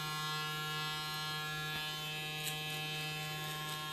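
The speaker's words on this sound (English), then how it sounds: "you come in with the clipper and you flick away like a C" BaBylissPRO electric hair clippers cutting coarse, curly hair hold a steady, close mechanical buzz with a strong hum, unbroken for the whole stretch and with no one talking.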